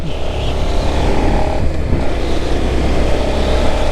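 A motorcycle rides along near the historic Fort Vasquez, its engine a steady loud drone with wind rush throughout, close to the rider and alone without talk.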